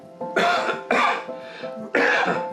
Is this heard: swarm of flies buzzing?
no